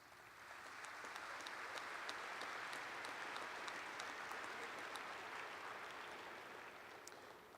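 At a North Point High School graduation ceremony in 2025, a large crowd gives a faint, distant round of applause, a continuous wash of clapping with scattered crisp hand claps, steady throughout.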